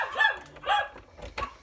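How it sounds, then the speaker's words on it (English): A dog at a pet-sitting house barks in three separate bursts, sharp and fairly close, with short quiet gaps between them and no talking. "Can you hear that dog barking?"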